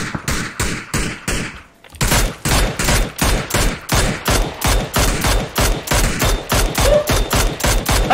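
Rapid bursts of M4 assault rifle fire in the video game PUBG, loud and close, firing in quick repeated volleys with a short pause early on before the shooting resumes at a steady, relentless rhythm.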